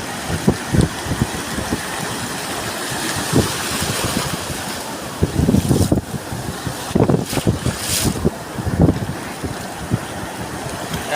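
Sea waves wash and slap around a small boat under steady wind noise, with several louder surges breaking irregularly through the clip.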